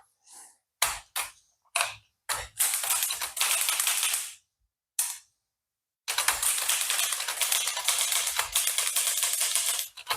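An Olivetti Lettera 32 portable typewriter typing: a few isolated key strikes, then two dense bursts of rapid clattering keystrokes separated by a brief pause, loud and close with no voices.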